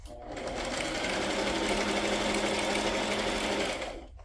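A sewing machine runs a straight stitch through a paper matchbook-style notebook in one steady, close, continuous whir lasting a few seconds.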